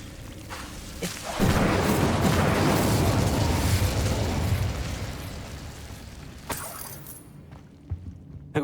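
The Incendio fire spell in Hogwarts Legacy erupts as a loud, roaring burst of flame that swells quickly, holds for several seconds, then fades, with a couple of sharp pops and thuds trailing after.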